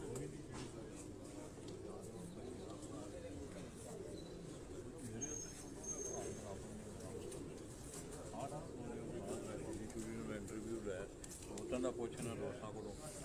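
Pigeons kept by a fancier give low, soft cooing that runs steadily across a noisy outdoor scene, with voices talking over and around the birds.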